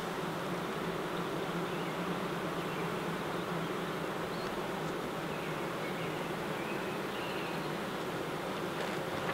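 A steady, dense buzzing drone of many honeybees fanning their wings inside a hive, continuous and fairly loud throughout with no pauses.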